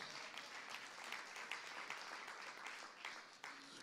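A church congregation claps together in sustained, even applause, steady and fairly faint throughout.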